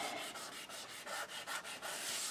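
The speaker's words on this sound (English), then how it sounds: "just give it a burnish down just to spread out that glue" Paper being rubbed flat with a burnishing tool onto a glued memory book page, a close, steady run of soft dry scraping strokes repeated about eight times in a quick rhythm.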